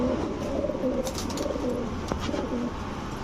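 Rampuri pigeons, including Cobra Rampuri males, coo steadily in soft repeated low phrases, close by, over a busy background of rustling and faint chatter.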